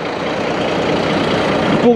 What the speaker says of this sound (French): Je vais essayer de vous faire voir un passage complet de vitesse.